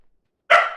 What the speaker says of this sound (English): Keep the woof into a minimum, Liz.